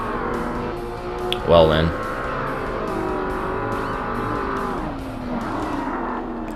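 A Chrysler race car in a Forza Motorsport Class S endurance race drives past with a continuous engine drone that rises and falls through gear shifts, a brief tire squeal midway, and someone speaking over it.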